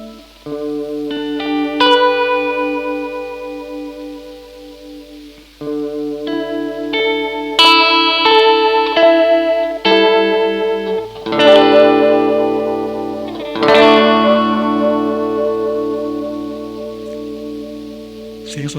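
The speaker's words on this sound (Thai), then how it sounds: "เดี๋ยวลองฟังเสียงคอรัสก่อนนะครับ" Ibanez electric guitar plugged into a small amp with a little reverb and run through an analog Super Chorus pedal, playing ringing chords and picked notes in several phrases with brief pauses, shimmering and wavering; no talking.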